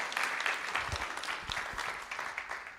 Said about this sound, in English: we're going to clap for him right now.